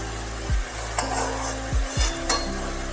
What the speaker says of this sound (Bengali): পুরো মাংসটাই কিন্তু ভাজা হয়ে গেল।